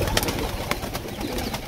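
Pigeons cooing and rustling inside a coop where several birds are sick, a steady close murmur of soft calls and fluttering with no talk.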